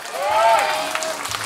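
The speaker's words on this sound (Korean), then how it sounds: "여기는 잘 박수가 나오네" Outdoor crowd applauding a gakseori folk street performer at the Pohang fireworks festival, steady clapping mixed with a talking voice near the start, moderately loud throughout.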